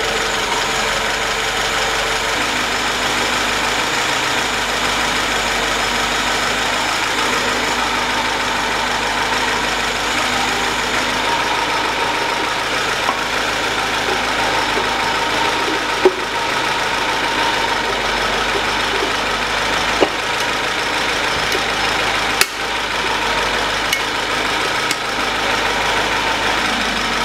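A warmed-up Lada Niva 2131 4x4 engine, just refitted with a new head gasket, idles steadily at a constant low rumble, with a faint ticking and a couple of small clicks, no voices.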